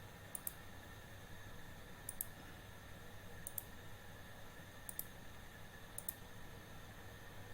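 Sharp computer mouse clicks while drawing a polygon in Google Earth, five quiet isolated clicks spaced over a steady low background hum, with no talk.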